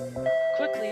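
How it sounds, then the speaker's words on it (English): A doorbell in a visual novel game rings with a clear, sustained electronic ding-dong of two tones, close and moderately loud. "Suddenly, the doorbell rings"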